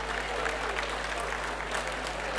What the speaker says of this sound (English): Can I have a massive round of applause for Robert, please?